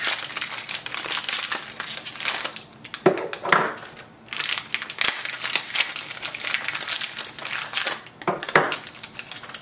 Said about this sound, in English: Now take the ink cartridges out of the plastic packaging.